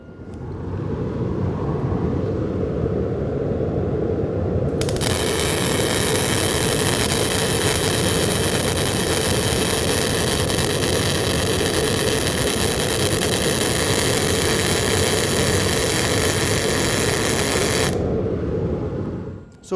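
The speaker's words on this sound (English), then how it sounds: "So we just finished our weld with not enough shielding gas" MIG welding on plate with insufficient shielding gas: a steady, loud, crackling arc hiss that starts abruptly, holds for about thirteen seconds and cuts off cleanly, over a constant low machine hum.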